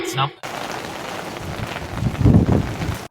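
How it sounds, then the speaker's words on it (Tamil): Steady rain falls in Greenwich, London, making a continuous close hiss of drops on surfaces that swells toward the end after a brief voice at the start. "நம்ம ஊர் பிளான் பண்ணி வந்தா லண்டன்ல மழை"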